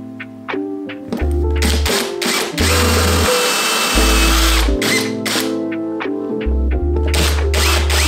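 A power drill bores into a wall to fit a TV mount beside a fireplace, giving a close, harsh whine in short bursts over steady background music.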